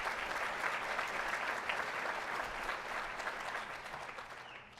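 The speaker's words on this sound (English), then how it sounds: "So please welcome them with a round of applause as well." A conference audience at the 2017 AMATYC gathering claps in sustained applause, a dense, even patter of many hands that holds steady before gradually fading out.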